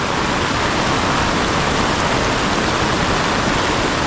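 Heavy rain pours in the mountains, a dense, even roar of water that holds loud and unbroken throughout, with no voices.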